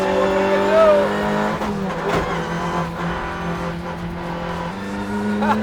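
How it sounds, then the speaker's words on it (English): Volkswagen Vento race car driving hard on a circuit while chasing a slower car, steady loud engine drone with shifting pitch and brief tyre squeal, close and continuous. "Okay, so I'm chasing Rahul, and he's in the, slower car. This one's a bit faster"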